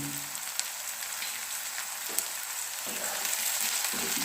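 Four or five chopped green chillies fry in oil in a pan for a fish dish with mustard sauce, giving a steady, close crackling sizzle with a few soft stirring scrapes toward the end.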